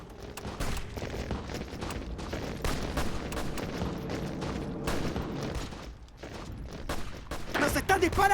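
Gunfire in a Hearts of Iron IV battle, with rapid volleys of shots crackling continuously over a low rumble and mechanical clatter for several seconds.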